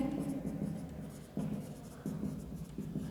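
Pen writing a balance sheet heading on paper, soft scratchy strokes in short bursts, close and quiet.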